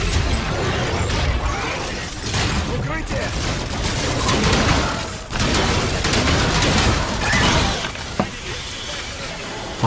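Dense, continuous gunfire and crashing explosions from Call of Duty: Infinite Warfare fill the whole stretch, loud and chaotic with sharp bursts throughout.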